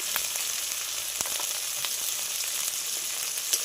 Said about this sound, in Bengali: মশলাটা কষিয়ে নেব কষা হয়ে গেছে মশলাটা